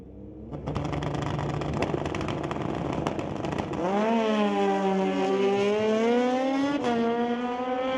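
Kawasaki drag-racing motorcycles, including a 2008 Kawasaki and a ZX, launch at a street-legal night drag strip, a loud roar followed by rising, high-revving engine whines as they accelerate away through gear changes.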